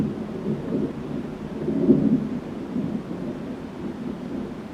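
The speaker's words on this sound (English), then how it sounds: "I think there's a thunderstorm coming" Low, rolling thunder from an approaching thunderstorm rumbles steadily in the distance, swelling louder around the middle before settling back into a dull, continuous growl.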